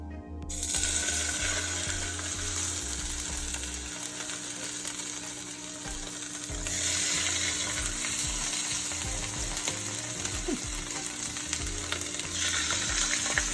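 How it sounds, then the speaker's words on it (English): Salmon pieces laid skin-side down in hot oil in a pan sizzle loudly. The frying surges as pieces go in and then holds a steady crackle, with occasional clinks and stirring sounds and no voices. "Now my oil is hot and ready to go. I'm going to go ahead and place my salmon skin down."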